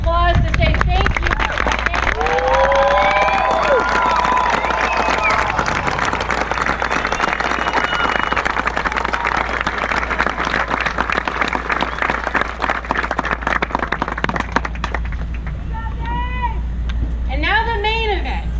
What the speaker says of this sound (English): give them a round of robust clapping and applause to say thank you